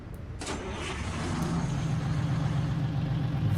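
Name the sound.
diesel truck engine in video game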